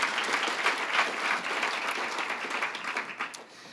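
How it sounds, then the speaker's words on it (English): Steady applause from the audience at a leadership luncheon, a dense wash of clapping that holds evenly for a few seconds and then thins slightly at the end. "round of applause"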